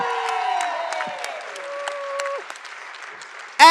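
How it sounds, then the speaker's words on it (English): Crowd applause for improv actors at the end of a scene: warm, continuous clapping from an audience with a voice calling out over it, fading slightly before an abrupt loud burst at the end. "And a round of applause for our player,"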